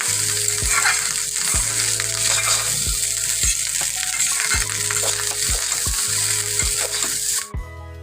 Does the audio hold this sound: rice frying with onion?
yes